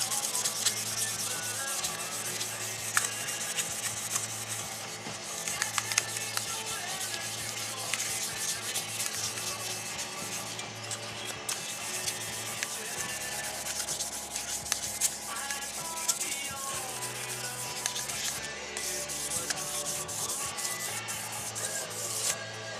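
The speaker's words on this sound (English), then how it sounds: "alright, so we have finished up with the 1500 grit automotive sandpaper" Wet sanding with 1500 grit automotive sandpaper on a gun part being prepared for cold bluing produces a continuous close rubbing rasp in steady back-and-forth strokes, moderately loud and without speech.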